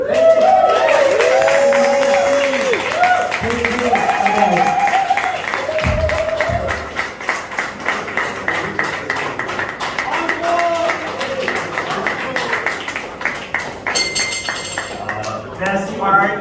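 A comedy-club audience claps and applauds as a headliner wraps up his set; a comedian's voice carries over the steady, fairly loud clapping, which thickens into denser applause toward the end.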